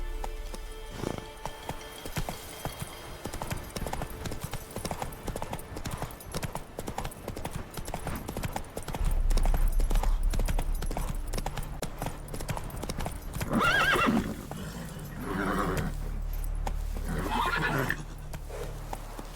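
Horse hooves clip-clop at a gallop in The Witcher 3, a steady rhythmic beat that runs throughout, with a whinny rising partway through and occasional faint voices.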